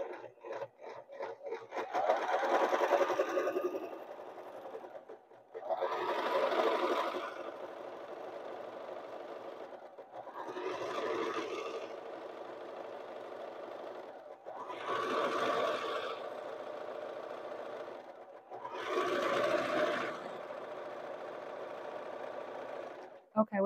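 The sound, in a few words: sewing machine stitching zigzag seam on pillowcase fabric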